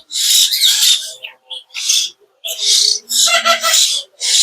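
Hill myna chicks being hand-fed give loud, harsh, raspy begging calls close by, in short repeated bursts separated by brief pauses.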